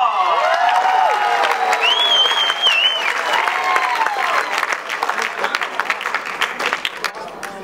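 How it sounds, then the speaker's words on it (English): Festival crowd applauding and cheering as an Elvis tribute performer is introduced on stage, sustained clapping with whoops and shouts, a high whistle-like cheer rising above it, fading gradually toward the end. "make some noise for Oliver Steinhoff"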